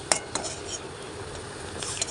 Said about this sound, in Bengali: এবার আলু ভাজা নামিয়ে নেব।